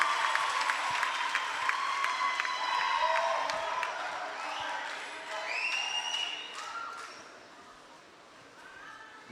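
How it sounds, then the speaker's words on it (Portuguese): A church congregation applauds during a worship service, a moderate wash of clapping mixed with cheering voices and whistle-like calls that gradually fades toward the end. "Linda e calorosa salva de palmas."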